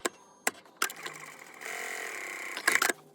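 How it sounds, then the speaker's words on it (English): A sewing machine stitches a quarter-inch seam along fabric scraps for a Christmas cushion. Short mechanical clicks and knocks lead into a steady, close whirring run of about a second, followed by a few louder clunks. "So I'm using a rule to mark in my 1/4 of an inch seam. And we're going to sew along there."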